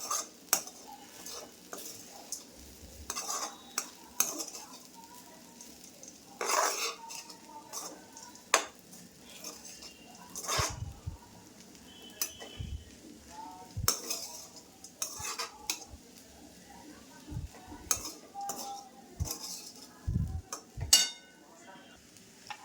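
Kanda poha being stirred and mixed in a pan, with a spoon repeatedly scraping and clinking against the metal in an irregular, close rhythm and a faint sizzle underneath.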